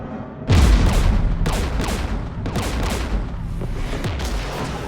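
Heavy gunfire in Mass Effect 3 as Geth forces attack: a deep boom opens, then repeated sharp bursts of shots and explosions crash at steady intervals, loud and close, over a continuous rumbling battle background with no talking.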